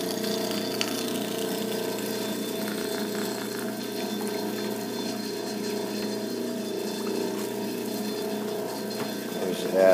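A homemade vibratory lap machine runs with water and rocks in its pan, a steady soft humming drone with faint rattling, continuous and fairly quiet.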